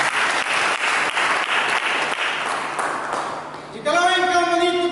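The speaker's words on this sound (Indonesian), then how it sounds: "Berikan tepuk tangan buat Yesus." A church congregation claps during a sermon, giving a rhythmic burst of many hands for several seconds before it fades and a tonal sung or musical note takes over at the end.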